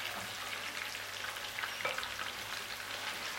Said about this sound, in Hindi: सारा चिकन हमने यहाँ पे डाल दिया है। अब चिकन को यहाँ पे हमने बहुत अच्छी तरह से भून लेना है।